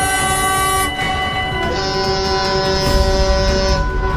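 A train passes a railway crossing while its horn sounds in long, loud sustained tones. The pitch shifts partway through, over the rumble of the moving train.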